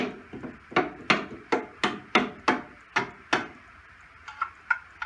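Repeated hammer taps on cast iron legs of a wood-burning cook stove, about a dozen sharp ringing knocks in an uneven rhythm with short pauses, close and distinct, followed by a few lighter metallic clinks.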